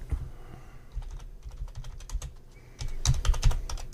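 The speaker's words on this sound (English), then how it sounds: "Listen to us all typing away, trying to find it." Rapid clicking of computer keyboards, several people typing at once, growing busier and louder toward the end.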